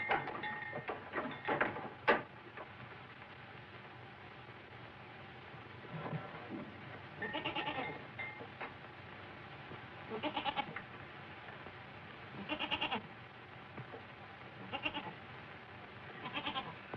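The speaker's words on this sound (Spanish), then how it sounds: "Pero yo no sé ordeñar una cabra." A goat bleats in several separate calls, wavering and fairly close, across a quiet rural scene from a 1937 film, with brief bumps and handling noises early on.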